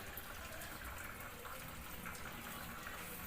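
An LG Smart Inverter washing machine fills with water from an inlet at the top, a steady, faint hiss and gush of running water with no voices.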